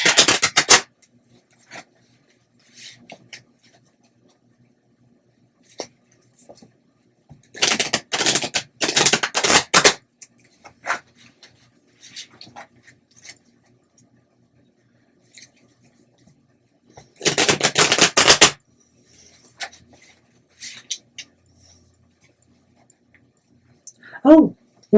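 Tarot cards are shuffled in two quick riffling bursts, crisp and close, separated by quiet stretches with faint soft handling noises.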